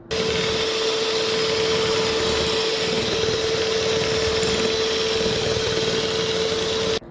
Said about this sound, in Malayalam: ഇതിലേക്ക് കണ്ടൻസ് മിൽക്ക് ചേർത്ത് കൊടുക്കുക. ഇനി വീണ്ടും ബീറ്റ് ചെയ്തെടുക്കുക.